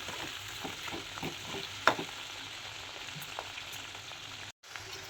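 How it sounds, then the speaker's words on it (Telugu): Grated onion frying in a pan gives a soft, steady sizzle while a spoon stirs and taps against the metal, with one sharper clink partway through and a brief dropout near the end; no talking. "కొంచెం ఆనియన్ పచ్చివాసన పోయేంత వరకు వేగనిద్దాం"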